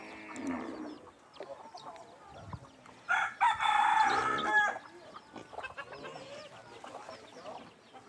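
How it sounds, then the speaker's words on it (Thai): Chickens clucking nearby with a rooster crowing loudly in the middle, over faint background noise, as the birds eat food scraps at a village in Khammouane, Laos. "นี่ไก่มากินเศษอาหาร"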